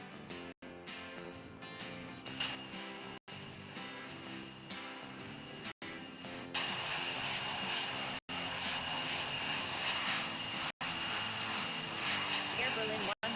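Lufthansa Airbus A380-800 jet engines spool up for takeoff from runway 27 right at London Heathrow in a flight simulator game, a steady close roar that swells louder midway, with brief dropouts and radio-style voices faintly mixed in.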